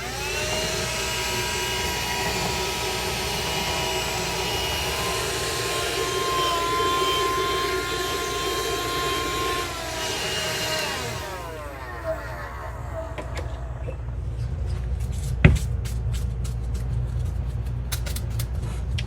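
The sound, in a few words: Dust Buster handheld vacuum running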